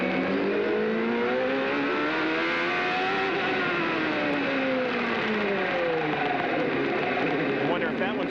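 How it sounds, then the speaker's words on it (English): Michael Andretti's race car at the 1995 CART Australia round, running with a failing, noisy gearbox, produces a loud engine whine whose pitch sweeps up and down under a commentator's steady talk. "Sounds terrible. Part of it is the gearbox is sure something making a lot of noise."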